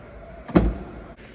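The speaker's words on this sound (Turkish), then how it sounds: "Hemen bir bagajını elimizle kapatalım." The trunk of a 2021 Citroen C4 Shine, 1.5 BlueHDi, is closed by hand and shuts with a single solid thud, close and clear against a quiet background, with no talking.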